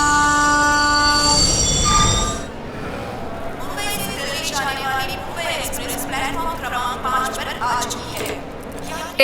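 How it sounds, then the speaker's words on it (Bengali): A Mumbai–Ahmedabad train sounds a long, loud horn blast, which then gives way to the clatter and squeal of rail wagons rolling past at close range. "মুম্বাই আহমেদাবাদ ট্রেন।"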